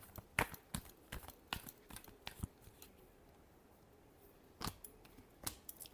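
Tarot cards being shuffled, a quiet series of crisp irregular snaps and flicks, closely spaced, then a short pause before a few more, no voices.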